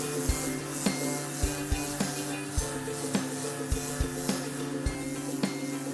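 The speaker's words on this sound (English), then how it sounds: "You can see here where I've just gone over it with the 50 grit, and it has smoothed that right out" Coarse 50 grit sandpaper scrubs thick bottom paint on a boat hull, a rhythmic rasping with regular strokes roughly every second, close and steady.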